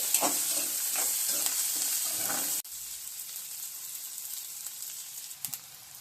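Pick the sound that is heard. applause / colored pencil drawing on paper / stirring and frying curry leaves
stirring and frying curry leaves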